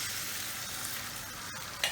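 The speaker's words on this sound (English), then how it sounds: "Once your oil is hot, we're going to add in our egg straight in." An egg frying in hot peanut oil in a wok, a continuous close sizzle with a single sharp crackle near the end.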